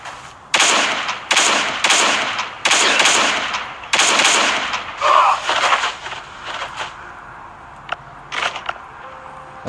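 A shotgun fires repeatedly in a video game, about five loud blasts in a rough rhythm, followed by scattered softer shots and impacts.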